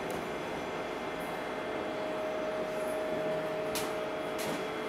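Steady rumble and hiss inside a moving passenger train carrying a bicycle, with a faint constant whine and a couple of brief high squeaks or rattles near the end, no talk.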